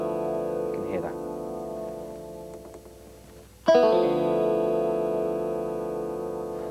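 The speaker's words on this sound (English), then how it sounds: "There's also a flanger option, which is a much more intense chorus effect using a bit of feedback." Roland GR-30 guitar synthesizer playing with its flanger effect, a sustained, sweeping chorus-like tone with feedback that fades, then a fresh note strikes loudly and rings on steadily.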